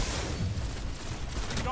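Dense, continuous gunfire from a weapon in an online shooter game, loud and unbroken, running steadily for the whole stretch.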